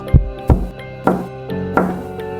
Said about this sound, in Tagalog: nagising siya sa tunog ng mahihinang katok.